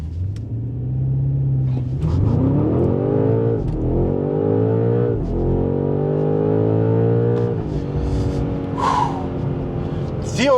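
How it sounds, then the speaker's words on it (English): A 2025 BMW M5 V8 launching hard from a standstill, loud engine revving up through several gear changes with rising pitch and brief dips at each shift, then easing off. "You know we have to launch this car"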